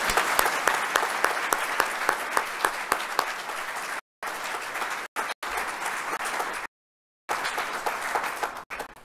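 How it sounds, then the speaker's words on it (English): An audience at a US Army Finance Command change of command ceremony applauds steadily, dense clapping from a large crowd sustained for several seconds with a few brief dropouts. "So please join me in a round of applause for the Jennings family."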